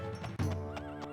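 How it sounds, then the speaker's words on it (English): A horse neighs and whinnies once, close and loud, with a rising and falling call over faint hoofbeats, out in the wilderness of the video game Daggerfall. "Oh, it's a horse out here in the wild."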